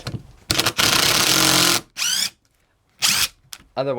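A power driver chatters in rapid hammering bursts, one long and two short, with brief pauses and a voice in between.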